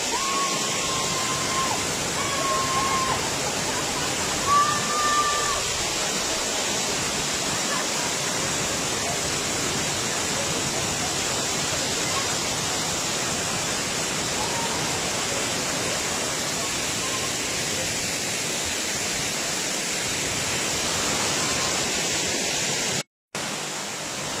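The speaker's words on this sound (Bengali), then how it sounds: "আপনার ঝর্ণাটা আসছে দেখুন" Bakthang waterfall in Sikkim roars in a dense, unbroken rush of falling water, loud and constant for over twenty seconds with only faint background sounds and a momentary cut near the end.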